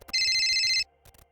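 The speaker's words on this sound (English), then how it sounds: "It's the sound of our phone." A video game phone rings in a rapid electronic trill for under a second, loud and alone, followed by faint low murmuring.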